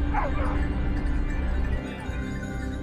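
Hunting dogs on an early-morning wild boar hunt give a few yipping, whining barks at close range over outdoor background noise, fading out after a couple of seconds.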